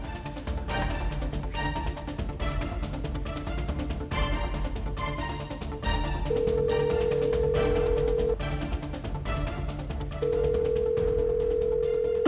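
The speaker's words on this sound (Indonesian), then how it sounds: "Gue harus coba telepon Ayuna dulu." A mobile phone call rings out unanswered, two long steady ringback tones sounding over continuous background music with pulsing beats.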